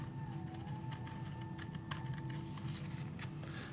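A pair of scissors makes faint, crisp, repeated snips as it cuts along an arc through a soft clay slab, over a low steady background hum.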